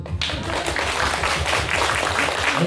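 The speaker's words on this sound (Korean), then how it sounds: "박수." An audience at a talk with a poet breaks into dense, lively clapping that starts suddenly and continues evenly, loud and close, with little speech over it.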